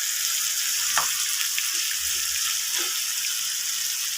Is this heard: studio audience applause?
no